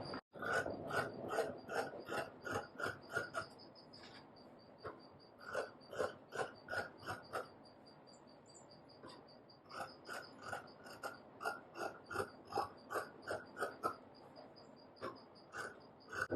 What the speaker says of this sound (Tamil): இப்போ நம்ம அப்படியே கட் பண்ணிக்கலாம்